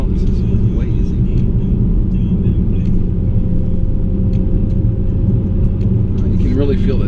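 A Dodge Hellcat cruising at about 55 mph in eco mode, heard from inside as a steady low engine and road rumble that stays even throughout, with no talk.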